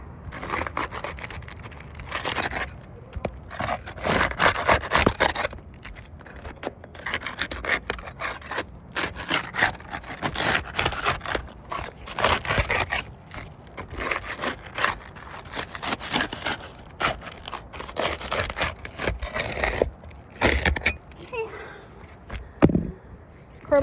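A putty knife scrapes and rubs repeatedly across a surface in uneven strokes during demolition work, close and fairly loud, with brief bits of talk and knocks mixed in.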